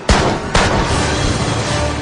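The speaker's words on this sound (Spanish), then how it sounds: "le dio 2 disparos en el pecho" Two loud, close gunshots from a rifle sound half a second apart in a dramatized story scene, each sharp blast trailing into a long, heavy rumble.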